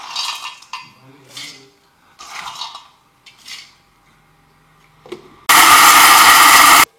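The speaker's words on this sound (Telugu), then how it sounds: "ఇప్పుడు మిక్సీ పడుతున్న వీటిని." A kitchen mixie grinder whirs loudly for over a second as it grinds roasted peeled peanuts with cardamom. Light clinks and handling noises of jar and utensils come first.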